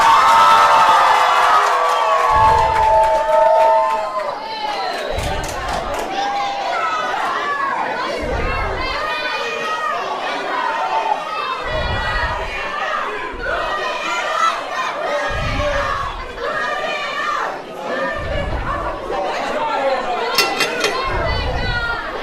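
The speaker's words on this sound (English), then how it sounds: "the crowd is going wild over Brittany Devlin" A wrestling crowd at a Saturday night show cheers wildly for Brittany Devlin, sustained shouting, whoops and chatter filling the hall, with repeated low thuds and an announcer's voice over the noise.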